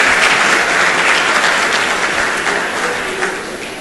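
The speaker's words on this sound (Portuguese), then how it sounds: "a gente pede até uma salva de palmas para ele" An audience at a church assembly session gives a loud round of applause, dense steady clapping that gradually fades in the closing seconds.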